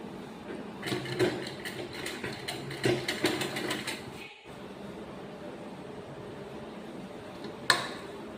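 A sewing machine stitches the collar of a girl's school uniform in short, rapid bursts of ticking, clattering mechanism noise, pausing briefly between runs, close and fairly quiet.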